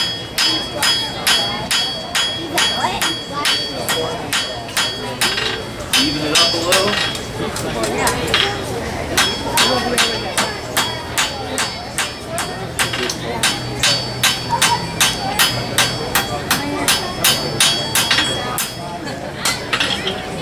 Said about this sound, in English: hammer at an angle, and push that metal down and out